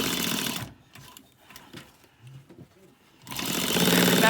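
A sewing machine runs a seam on a garment with elastic, chattering rapidly and close for under a second, pausing while a voice talks softly, then starting again in a loud steady burst.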